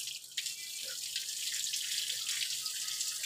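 Water pours and splashes steadily over small deity idols being bathed at a home shrine, a continuous close trickle running the whole time with no voices.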